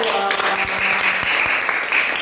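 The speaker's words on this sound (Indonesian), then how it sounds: "Tepuk tangan buat kelompok 2." A class of students claps in a brief burst of applause for a student group while a teacher speaks over it.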